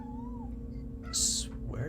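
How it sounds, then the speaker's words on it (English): A cat meows once, a short high cry standing out over a steady electronic hum, with a person's voice starting up just after it. "there's a cat behind me"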